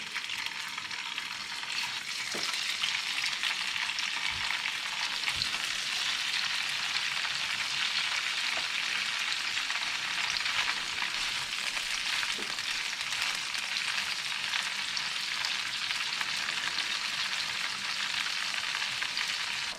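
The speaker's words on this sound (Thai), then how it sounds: "ก่อนอื่นเราก็จะทอดเต้าหู้ก่อนเลยค่ะ" Tofu frying in oil for a Thai stir-fry of tofu and mixed vegetables, a steady, dense sizzle and crackle that runs loud and unbroken throughout, with a few faint clicks and no talking.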